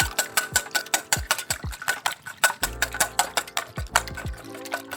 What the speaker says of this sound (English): Whisk these up a little bit